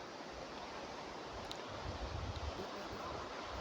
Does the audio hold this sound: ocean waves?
yes